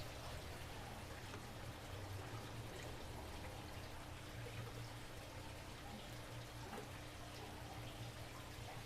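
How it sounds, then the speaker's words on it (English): Saltwater is scooped from an aquarium with a pitcher, producing a steady trickling and pouring wash with faint splashes that runs at an even, quiet level throughout. "So now I'll take my pitcher. Probably take out some of this water."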